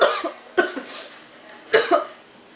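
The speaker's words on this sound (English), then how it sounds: "I'm coughing like crazy." A person coughs in three sharp bursts, each followed by a softer catch, spaced unevenly over a couple of seconds and heard close up with no talking.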